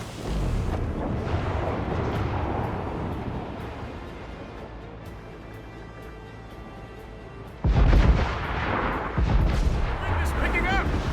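Ship cannon fire in the Assassin's Creed Rogue video game: a rumbling naval battle that quiets, then heavy booming blasts break out loudly near the end, with shouted voices.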